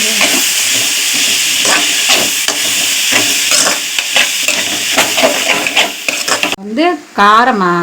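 Vegetables for paneer fried rice sizzle and hiss loudly in a hot pan as they are stirred, with repeated scraping strokes in a busy rhythm, followed at the end by a short burst of talking.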